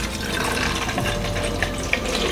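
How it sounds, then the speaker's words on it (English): Cleaning solution pours from a bottle into the solution tank of a Vax Rapid 2 carpet cleaner, a steady close splashing gurgle of liquid that runs without a break. "we're going to put our solution into the solution tank."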